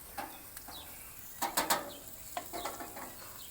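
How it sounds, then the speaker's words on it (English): Food stirred in a hot frying pan, with faint sizzling and a few short scraping and clattering bursts of a utensil against the pan, fairly quiet and close with no talk. "Give that a little stir, get that mixed up there"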